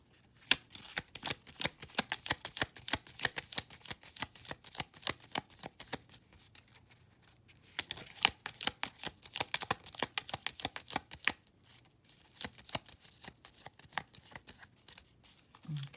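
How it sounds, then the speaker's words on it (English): Rapid riffling clatter of playing cards being shuffled in repeated bursts, crisp and close, with brief pauses between shuffles and no talking. "going to shuffle the second deck"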